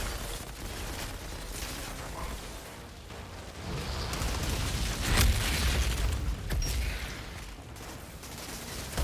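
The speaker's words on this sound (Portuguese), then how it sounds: "jogaram a granada" Grenade blast in the shooter game Outriders, a deep booming burst swelling midway amid crackling combat noise and scattered pops, loud and close, with no talking.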